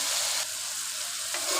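Cabbage frying in a hot pan while being stirred, giving a loud, dense, hissing sizzle close by, dipping briefly after the first half-second and swelling again near the end, with no talking.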